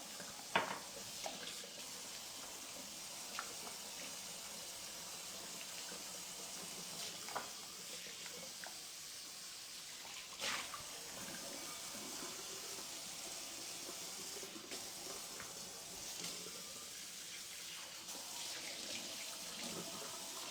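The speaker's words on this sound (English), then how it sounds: "I'm going to just give this one a rinse." Water runs from a kitchen tap as a small pan is rinsed, a steady hiss of flow that goes on throughout with faint clatter and splashing, fairly quiet and with no voices.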